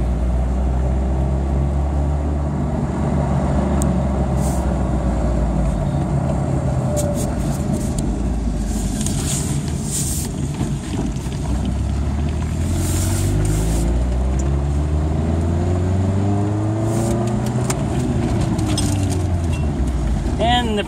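Steady engine drone and road rumble from inside a 2-liter Plymouth Neon with a worn clutch, pitch rising and falling as the car accelerates and shifts, a few light rattles and clicks over it.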